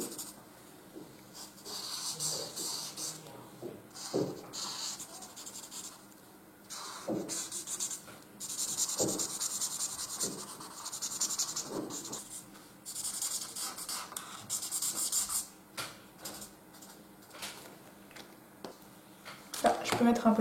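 A marker squeaks and scratches across paper as a drawing is coloured in, in soft strokes with pauses, under quiet talking.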